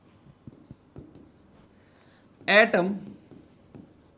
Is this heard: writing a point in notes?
yes